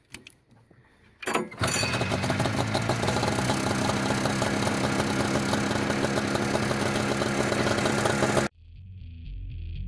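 A 1972 Sno Jet snowmobile engine starts after a few brief attempts, then runs loud and close with a steady, rattly two-stroke buzz for several seconds before cutting off abruptly.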